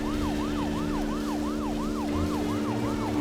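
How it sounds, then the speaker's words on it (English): Car siren in the Deadly Premonition video game, a loud, rapid wailing whoop repeating about three times a second, continuous and close, with a low engine-like hum underneath. "we're gonna turn on the siren and give ourselves some zoomies"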